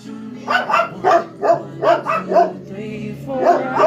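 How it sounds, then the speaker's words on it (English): Several dogs barking in a rapid, loud, close burst of overlapping barks and yips, about eight in quick succession indoors. "Would you guys stop? Your barking is causing vibration."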